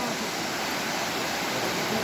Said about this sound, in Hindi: देखो पानी यहाँ पे कैसा बह रहा है कितनी तेजी से